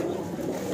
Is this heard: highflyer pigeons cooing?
yes